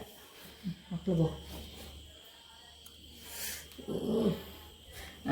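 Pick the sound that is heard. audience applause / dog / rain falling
dog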